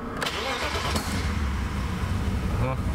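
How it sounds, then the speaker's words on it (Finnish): A car engine fitted with Megasquirt engine management cranks and catches, then settles into a steady idle rumble, close by, with a voice briefly speaking over it in Finnish. "Moottori käyntiin."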